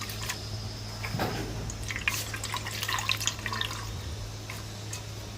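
Quiet splashing and dripping water as something is rinsed and handled, soft wet sounds over a low steady hum.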